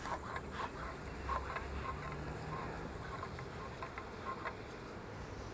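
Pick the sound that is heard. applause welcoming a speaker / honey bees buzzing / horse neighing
honey bees buzzing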